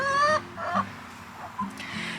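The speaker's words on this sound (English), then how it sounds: "So we're at the chickens now," Chickens cluck nearby in a short burst of quiet calls, a few separate clucks with brief pauses between them.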